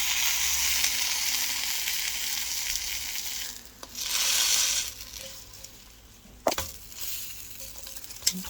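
Dried fish fries in a pan for a home-cooked Filipino dish, giving a loud, continuous sizzle that dips and swells, broken by a couple of sharp clinks near the end.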